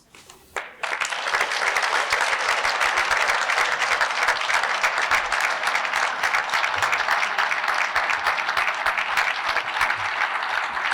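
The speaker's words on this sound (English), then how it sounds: "another round of applause for our newest inductees" A large audience at a Hall of Fame induction ceremony for athletics breaks into applause after a brief quiet start, and the clapping stays dense and loud for the rest of the stretch.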